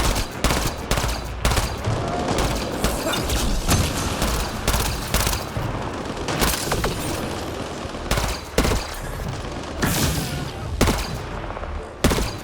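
Rapid gunfire in the Mass Effect Andromeda video game: dense, loud bursts of shots and blasts crowd together with overlapping explosions and mechanical clatter, continuing throughout without pause.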